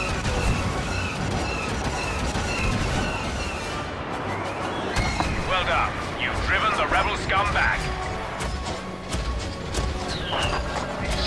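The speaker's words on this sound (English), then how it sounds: "Use your blaster cannons to obliterate those rebels." Blaster cannon fire from the Star Wars Battlefront video game: a dense barrage of loud, sharp repeated shots and booming blasts over steady rumbling battle noise, with bright zapping bursts in the middle.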